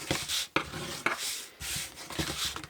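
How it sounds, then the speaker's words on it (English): Paper card score lines being burnished by hand for a twist-and-close triangular box, giving close, dry rubbing strokes in short bursts with brief pauses between passes. "Okay, so I'm going to burnish all my score lines."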